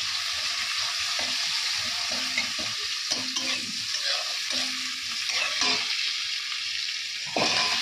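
Panch phoron, green chili and onion sizzle in a wok, a steady close frying hiss broken by repeated scraping stirs, with no talk.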